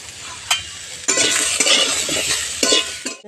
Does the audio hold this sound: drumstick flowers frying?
yes